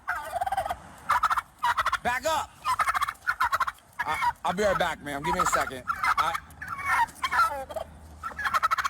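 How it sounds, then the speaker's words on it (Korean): Turkeys gobble loudly and repeatedly around a police officer as turkeys and chickens attack him, their rapid gobbling bursts filling the scene while the officer shouts and speaks over them. "이번엔 칠면조들이 닭들까지 몰고 왔는데요"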